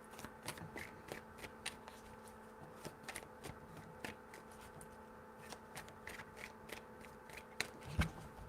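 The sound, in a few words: shuffling tarot cards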